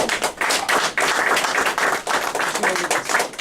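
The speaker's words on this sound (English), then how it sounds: "Once again, we'd like to give you a great round of applause." An audience at an installation ceremony claps steadily, a dense, close patter of many hands that continues without pause.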